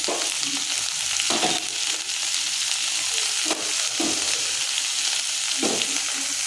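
Chopped onion, ginger and garlic sauté in a pan for kadamba chutney, a loud continuous sizzle broken by periodic scraping stirs.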